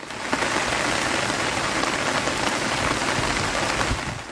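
Heavy monsoon-type rain pours steadily in the Coimbatore and Nilgiris hills, a dense continuous hiss of drops drumming on surfaces with no voices.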